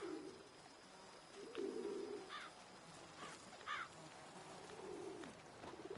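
Soft, low pigeon coos repeat at a distance amid quiet outdoor ambience in The Witcher 3 Blood and Wine, with a few faint higher bird chirps scattered between them.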